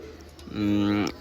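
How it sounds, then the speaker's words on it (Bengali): Nila Kamagar pigeons cooing, one short low throaty coo rising then falling, close by over faint room noise. "নীলা কামাগার কবুতর আপনারা নিতে পারেন এই পেয়ারটা"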